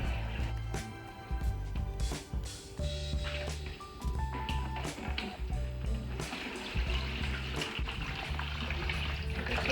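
Warm water is poured steadily from a container onto a coco peat brick in a pot, a faint, continuous trickle and splash in the background of a quiet room.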